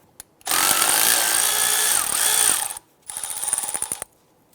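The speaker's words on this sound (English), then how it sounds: "Using a 12mm socket, I'm going to go ahead and remove the bolt holding the flex line to the strut." A power tool on a 12mm socket spins a bolt off the strut of a 2001-2005 Honda Civic. A loud continuous whir lasts about two seconds, then after a brief gap comes a second pulsing burst, up close with no voices.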